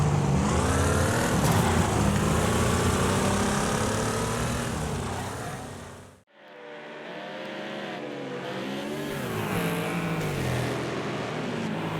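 A race car engine roars continuously in Need for Speed High Stakes, revving with rising and falling pitch through turns, with a brief dip midway before the loud engine drone resumes.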